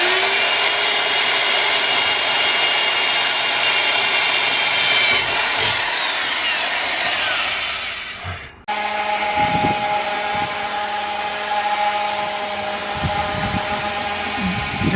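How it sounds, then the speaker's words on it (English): A steady, loud high-pitched mechanical whine of a power drill drilling upward into metal in a van, running continuously, cutting out briefly then resuming with a grinding, rattling tone. "we had to drill upwards into the metal"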